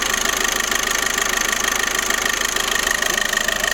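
A VW Golf 1.6 TDI diesel engine runs with a steady, even drone and a faint ticking rattle. The throttle blips are not clearly audible, and there is no talk.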